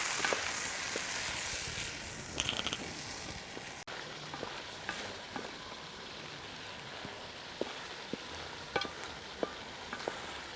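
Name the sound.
stirring spicy toddy shop curry with chickpeas in a pan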